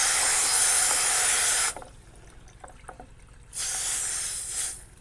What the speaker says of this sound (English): I also have me a hose hooked up here with a spray in